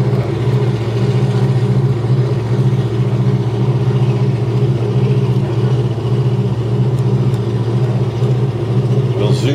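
A front-engine dragster at a drag strip runs with a loud, steady engine rumble that holds strong throughout, clattering and droning under faint background noise.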